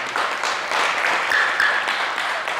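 A crowd at a Hindu temple celebration in Canada applauds in honour of an elder, a steady, even wash of clapping that holds at full strength from start to finish without pause.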